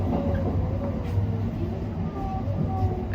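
A Japanese scenic train running from Akita to Aomori along the Sea of Japan rumbles steadily from inside the carriage, with a continuous low drone and faint rail clicks.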